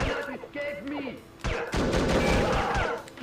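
Gunfire in the spy shooter The Operative: No One Lives Forever, a burst of sharp shots and impacts that flares up loud over game music and effects, with a voice talking over part of it.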